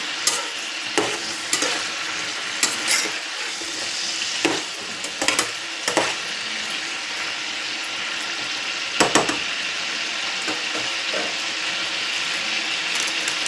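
Chicken legs fry in plenty of oil with a constant crackling sizzle, broken by repeated sharp knocks and scrapes of a utensil against the pan, close and fairly loud.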